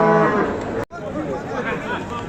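Cattle low at a busy livestock market, the first call a drawn-out harmonic moo, followed after a brief gap by further calls under general market chatter and crowd noise.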